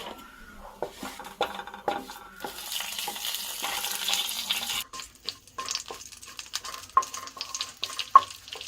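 Panch phoron and a dried red chili frying in mustard oil for a raw mango chutney, crackling and sizzling with scattered pops and clinks of utensils against the pan, close and moderately loud.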